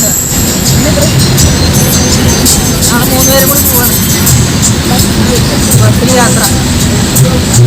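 A loud, steady vehicle engine rumble fills the clip, with people talking and background chatter riding over it.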